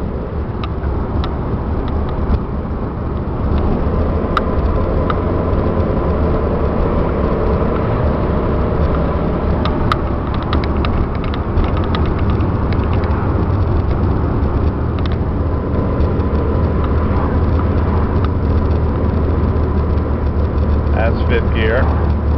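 A Ford Bronco II with a V6 and five-speed manual 4x4 driving in fifth gear, a loud, steady engine and road drone inside the cab, with a voice talking over it.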